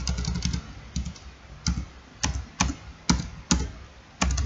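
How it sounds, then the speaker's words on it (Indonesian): Keys pressed on a computer keyboard while working in a Word document, including Shift and Enter, spaced single clacks and thunks at an uneven pace, close up with no talk. "tekan Shift lalu enter, maka angka berikutnya tidak lagi keluar"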